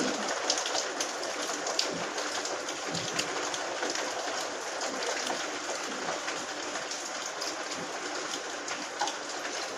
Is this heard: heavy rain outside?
yes